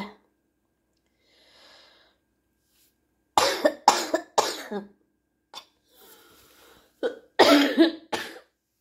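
A woman coughs in several harsh, close bursts, with a few separate coughs clustered in the middle and another cluster near the end, between stretches of near silence.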